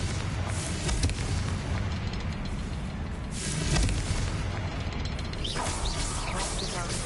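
Confringo fire-blast spell exploding in Hogwarts Legacy, a dull boom mixed into a dense, continuous game soundscape, with a louder burst near the middle.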